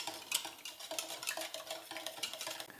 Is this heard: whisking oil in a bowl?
yes